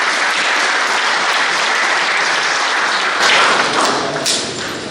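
Wedding guests applaud to welcome a newlywed couple, a full, sustained round of clapping with a few sharper thumps and taps, swelling slightly toward the end.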